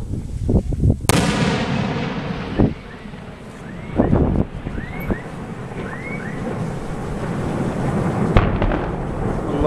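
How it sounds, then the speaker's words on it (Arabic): Tank shelling on the town of Zabadani near Damascus, heard as several heavy booming blasts spread across the clip over constant wind noise, with a sharp loud crack near the start. "قصف على مدينة الزبداني بالدبابات من كافة الحواجز."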